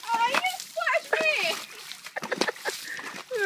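A horse splashes and plays in a shallow creek, with bursts of splashing water mixed under excited, lively human chatter.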